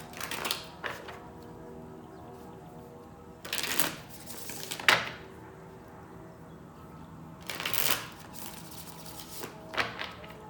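Cards are riffled and shuffled in several separate bursts, each a quick crisp flutter, with quiet pauses between them.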